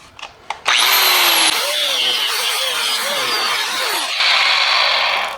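A 4.5 inch angle grinder with a cut-off wheel bites into an LS intake manifold, its loud, steady high whine holding for several seconds with a wavering pitch as the disc loads and eases in the cut, near and alone.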